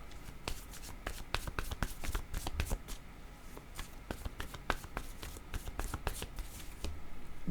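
Tarot cards are shuffled by hand close up, a rapid irregular riffle of crisp flicks and soft slaps continuing throughout, with faint incidental handling sounds.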